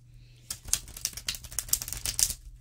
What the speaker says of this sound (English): I'm going to do one more riffle.